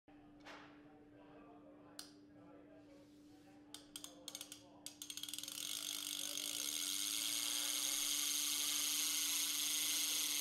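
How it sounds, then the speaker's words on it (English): SpanSet Gotcha CRD rescue device locking ratchet clicking while lowering, a few sharp clicks giving way to a rapid steady whirring ratchet buzz that grows louder and continuous, over a constant low electrical hum. "you will be able to hear the locking ratchet function while lowering"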